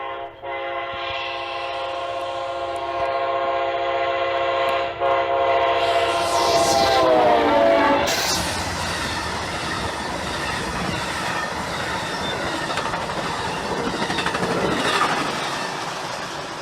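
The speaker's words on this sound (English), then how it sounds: "This next catch is Amtrak 48 with Amtrak 145 leading, which is the" Amtrak 48, led by Amtrak F40PH Phase 3 locomotive number 145, sounds a loud, sustained multi-tone horn up close, then the roar of the passing train and rumbling, clattering cars takes over and continues steadily.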